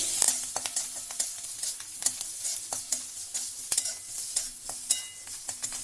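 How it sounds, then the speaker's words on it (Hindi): Green chillies stuffed with chaat masala frying in hot oil, a dense continuous crackling sizzle with repeated spoon clinks and stirring scrapes, close and fairly loud, with no voices. "ये हमारा तेल गरम हो गया है, तो इसमें हम ये मिर्ची डाल देते हैं और इसे थोड़ी देर भून लेते हैं।"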